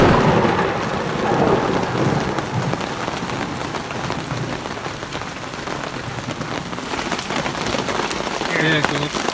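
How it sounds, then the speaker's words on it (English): Heavy rain pours down on a mountain top during a thunderstorm, a loud continuous wash of drops with deep rumbles rolling beneath it and a voice talking over it at times. "It's raining pretty hard. Thunder, lightning."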